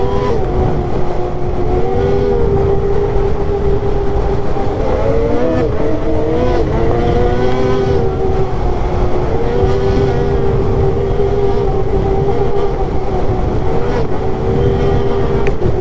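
Arctic Cat Catalyst 858 snowmobile riding in blizzard conditions with a fouled mag plug, its engine a steady loud drone with a wavering pitch that rises and falls throughout, close and continuous.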